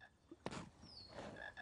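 A frog in the PC Harry Potter and the Philosopher's Stone game gives a short croak burst, followed by softer croaky sounds and a brief high tone, faint and alone.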